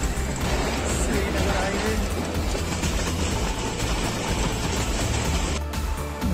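The Thal Express of Pakistan Railways runs on the tracks between Rawalpindi and Multan, a loud, steady rumble and rattle of carriages heard from inside, continuous for several seconds with faint background babble.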